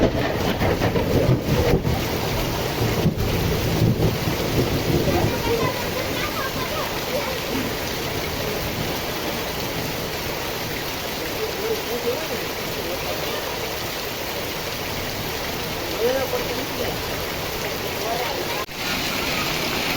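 Heavy rain pours down in Dhoraji, a dense, continuous hiss with wind buffeting the microphone and a few sharp bursts early on.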